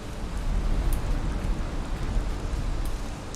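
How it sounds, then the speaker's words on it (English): Steady rain falls in the Valheim video game world, a dense, even hiss that holds without a break for the whole stretch and has no distinct individual drops. "Okay, there is rain."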